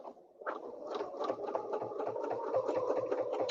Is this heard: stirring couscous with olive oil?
no